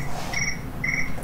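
Crickets chirp at night inside an old jail at a museum on Amelia Island, giving two short, steady trilling bursts about half a second apart over a faint background hiss.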